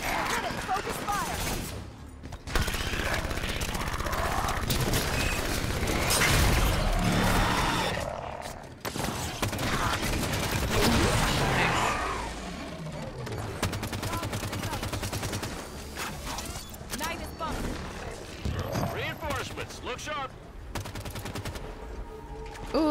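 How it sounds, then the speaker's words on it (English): Assault rifle gunfire in the Halo 5: Guardians video game, dense bursts of automatic shots mixed with explosions and game effects, loud and nearly continuous, with voices talking over the action. "The assault rifle is actually quite smooth in this."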